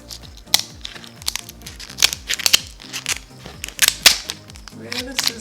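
Plastic packaging around a pack of snow crab clusters torn and cut open with scissors, giving sharp repeated crinkles, snips and crackles up close, with loud bursts spread across several seconds.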